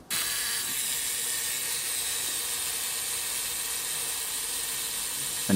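A Zorki 4K rangefinder camera's self-timer mechanism runs with a steady, close mechanical whirring buzz that holds evenly for several seconds, with a slight rise at the very end.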